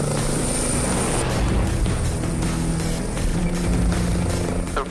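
An air ambulance helicopter lifts off and hover taxis, its rotor and engine roaring loud and close in a dense continuous wash with a steady high whine throughout.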